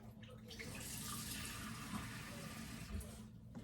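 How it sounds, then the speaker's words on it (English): Water runs steadily from a tap into a bowl in a home kitchen, a continuous splashing rush lasting a few seconds before cutting off. "Some water in a bowl."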